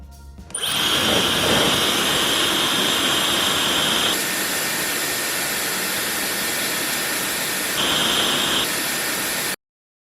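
Dyson Supersonic hair dryer and Dyson Airwrap styler running, a loud steady high-pitched airflow whine with motor tone, one device cutting over to the other partway through and back again, close up with no talk.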